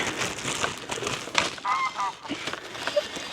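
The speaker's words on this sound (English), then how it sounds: "there's a lot of geese about today" Geese honk repeatedly on a lake at a leisure farm, several calls overlapping and fairly near, mixed with wind and general outdoor noise.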